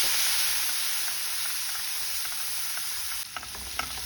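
Kashmiri red chili and a spoonful of water hit hot oil in a pan for tempering, giving a loud steady hiss and sizzle that slowly eases, with a few light clinks of stirring near the end.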